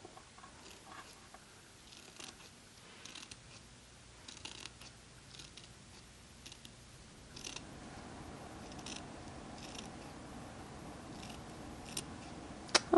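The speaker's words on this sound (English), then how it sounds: "I'm going to take my scissors and trim the mesh around the edges like this." Repeated crisp scissor snips trimming the mesh around the edges of a fabric flower for a baby headband, close up, in an irregular rhythm with small handling rustles between cuts; no talking.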